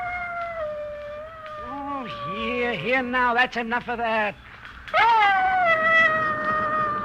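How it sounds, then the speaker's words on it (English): Ranger the dog howls and whines in a vintage radio drama, long wavering cries rising and falling with a few sharp yelps, while someone speaks over and between them. "Confounded, what's gotten into that dog? Now, stop it, Ranger."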